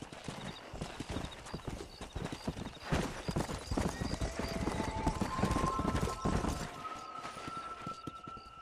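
Horse hooves gallop in a steady clip-clop rhythm in Red Dead Redemption, loud and close, with a brief whinny and game music tones layered over the hoofbeats.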